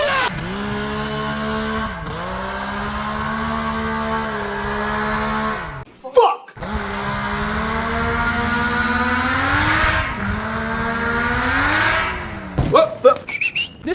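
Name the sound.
140HP ATV engine revving with new exhaust in snow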